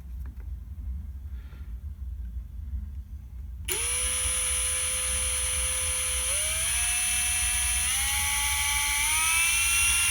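A handheld power tool spins a brass cartridge case during case prep. After a few seconds of quiet it whirs on abruptly as a high, steady whine, then climbs in pitch in small steps as the speed rises.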